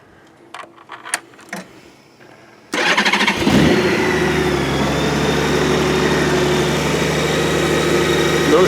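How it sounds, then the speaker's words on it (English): A motorcycle fitted with accessories starts up after a few quiet clicks and rattles, then settles into a steady, close, loud idle for several seconds. "Okay, I will start up the bike."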